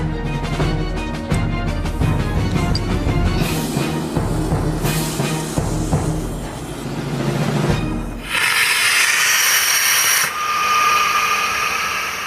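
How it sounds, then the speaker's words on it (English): An evacuation slide bag inflating on rocket gas boosted with compressed gas: a loud rushing, rumbling roar that shifts into a harsher high hiss partway through, continuous and close. "I'm using the rocket gas as a booster and combining it with the compressed gas. But will that be enough to fill the bag in the critical 6 seconds?"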